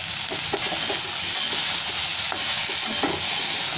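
Steady sizzling of vegetables frying in a pan for a Bengali small-fish curry with ridge gourd and potato, with light stirring scrapes and a faint clink, close and alone.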